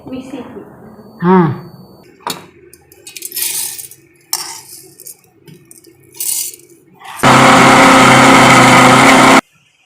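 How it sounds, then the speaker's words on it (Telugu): A kitchen mixer grinder whirs loudly and steadily for about two seconds as it grinds coconut with jaggery, after clinks of pots and utensils and someone talking nearby. "ఇప్పుడు మా కూతురు మిక్సీకి వేసేస్తుంది"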